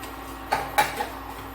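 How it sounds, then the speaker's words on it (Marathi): Sesame seeds are roasted and stirred in a pan over low heat, heard as a few quick, faint scraping ticks of a spoon against the pan in the quiet. "सर्वप्रथम मी तीळ भाजून घेते आता पॅनमध्ये मंद वाटेवर असे भाजून घेते"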